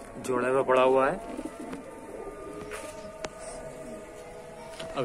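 Black pigeons in Amroha coo loudly up close at the start, then quieter bird calls and scattered chirps continue over a low background hum.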